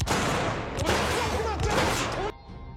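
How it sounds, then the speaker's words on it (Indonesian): Dense, rapid gunfire crackles in a loud sustained burst, then cuts off abruptly. "Tiba-tiba anggota Sixers muncul melepaskan tembakan."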